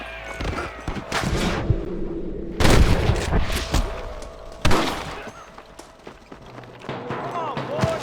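Several loud, sharp gunshots ring out in a Red Dead Redemption shootout against snipers, scattered across the stretch with bursts around the middle and a softer trailing shot near the end, amid rumbling game noise.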